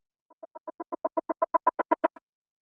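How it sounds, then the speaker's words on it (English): A short riser effect of rapid pulses climbs in loudness over about two seconds, then cuts off abruptly. "And then with this riser here towards the end."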